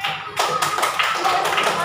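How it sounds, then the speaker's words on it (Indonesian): A classroom group claps for a participant, a short burst of scattered hand claps after a brief pause, close and fairly loud, with voices mixed in. "Berikan tepuk tangan buat orang yang ragu-ragu tadi."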